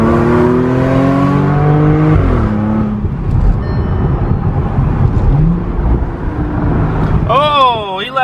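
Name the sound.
tuned 400HP Audi S5 engine accelerating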